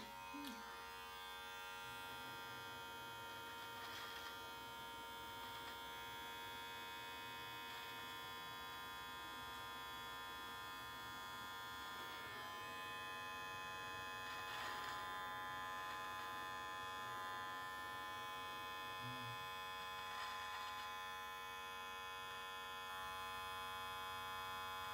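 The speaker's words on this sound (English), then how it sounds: "we're going to start by trimming up the stash just a little bit" Electric trimmer running continuously while trimming a mustache, a steady buzzing hum with slight shifts as it moves, close but quiet throughout.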